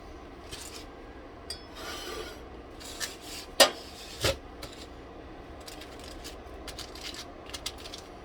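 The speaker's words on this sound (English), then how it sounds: "I have my bacon here that I cooked in the air fryer, and I'm just going to chop it up." Knife chopping air-fried turkey bacon on a board, producing scraping, rasping cuts with a couple of sharper knocks, close and moderately loud with no talk.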